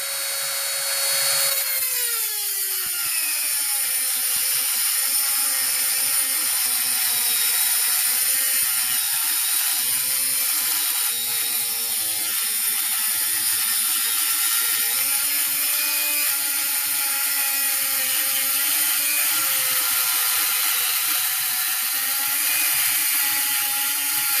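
Pro Woodworker rotary tool running smoothly at a high, steady whine, loud and close, with a brief pitch drop at start-up and no talking.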